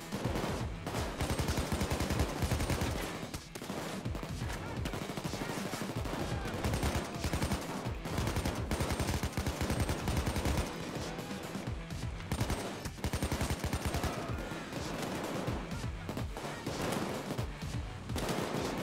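Rapid, continuous automatic gunfire from a PayDay 2 bank heist shootout, dense overlapping bursts running loud and nearly unbroken throughout with no pauses.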